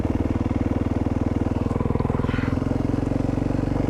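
Motorcycle rolling slowly in first gear at about 10 mph, its engine putting out a steady, close, low throbbing drone with even pulses and no revving, heard alone throughout.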